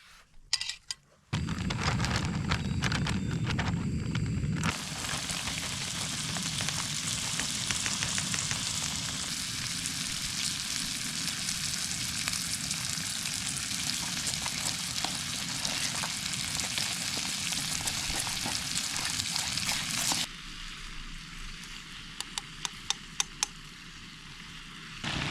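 Thick chunks of bacon marinated in brown sugar fry in a pan at a mountain camp above Convict Lake, a loud, steady sizzle and crackle that runs on for the whole stretch.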